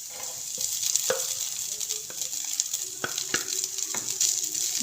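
Chicken and garlic fry on low heat in a pan, a steady close sizzle with scattered clinks and scrapes of stirring, no voices.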